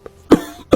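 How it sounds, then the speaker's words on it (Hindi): A man gives two short, harsh coughs close by, separated by a brief pause. "अपने पति को खिला देती है तो उसे खांसी आने लगती है।"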